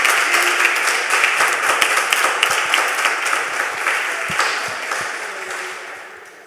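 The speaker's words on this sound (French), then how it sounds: "Ça mérite un applaudissement." An audience in a church gathering breaks into dense, steady clapping after a pastor's talk, close and lively, tapering off gradually toward the end.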